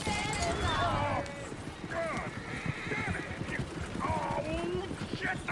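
Horses clop and whinny around a stagecoach in Red Dead Redemption 2, several neighs rising over steady hoofbeats with people talking throughout.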